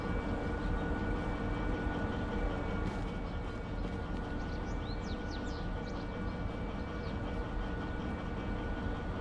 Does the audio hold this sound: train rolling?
yes